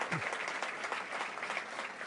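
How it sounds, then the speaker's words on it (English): Applause from a gala audience at the 2015 John Jay Educating for Justice event, a continuous room-filling patter of many hands clapping at moderate level throughout. "So please give everybody a round of applause for being so much a part of our lives."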